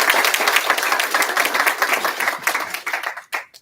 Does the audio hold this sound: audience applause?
yes